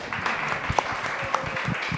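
Audience applause at an evening talk on feminist mobilisations at the University of Fribourg: a steady, moderate wash of clapping from a crowd, continuous through the whole moment without pause.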